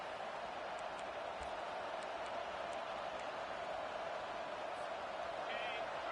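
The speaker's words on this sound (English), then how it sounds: "Decibels rising as the crowd gets behind this defense on third down" A football stadium crowd cheers on a defence at third down, a steady, distant wash of crowd noise that holds level throughout, with commentary heard beneath it.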